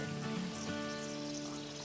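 Steady crackling sizzle of vegetable pakoras deep frying in hot oil, a continuous bubbling hiss, quiet and close.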